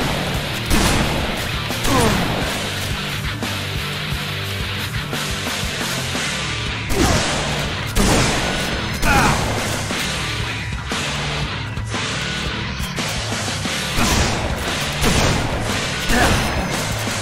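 Shotgun blasts in Halo Reach, with sharp, heavy booming shots fired one at a time at irregular intervals over a steady bed of game ambience, each loud and close.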